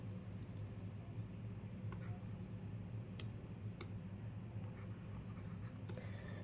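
Pen writing on paper during a Class 8 maths lesson, a soft continuous scratching that runs steadily throughout at close range over faint low hum, with no talking.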